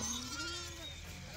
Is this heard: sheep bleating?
yes